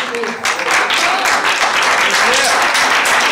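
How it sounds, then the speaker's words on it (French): Audience at a youth short-film festival applauding, a thick, sustained burst of many hands clapping close and loud, with some voices underneath. "je veux vraiment que vous les applaudissez"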